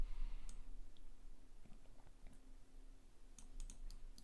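Computer keyboard typing in short clusters of light clicks, scattered across the stretch with a brief burst near the start and a busier run of keystrokes toward the end, faint over a low steady hum.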